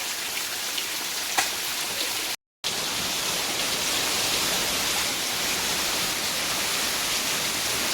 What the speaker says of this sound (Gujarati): ઘરે બી આવ્યા છે ને વરસાદ જો બોલાવા માંડ્યો છે ધબધબાટી